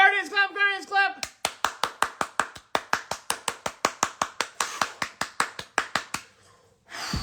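Cleveland Guardians fans at an extra-inning win over the Detroit Tigers clap in a fast, even rhythm of sharp, close claps after a brief voice, then fall quiet.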